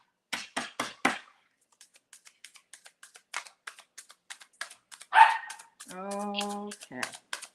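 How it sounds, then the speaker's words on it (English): Indoors, a dog gives a quick burst of four sharp, close barks. Lighter tapping follows, then a louder yelp and a drawn-out whine or vocal tone, with a person talking around it. "No barking."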